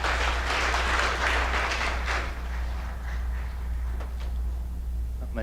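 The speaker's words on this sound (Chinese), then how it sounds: "我们掌声鼓励他" Congregation at a Taiwanese-language church service in a park applauds in a dense burst that fades partway through, leaving scattered claps over a low steady hum.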